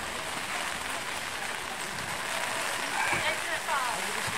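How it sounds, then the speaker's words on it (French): Heavy rain falls in San Francisco, a steady outdoor hiss and patter that stays fairly faint and continuous, with a brief voice near the end. "il vient de commencer à mouiller plus fort"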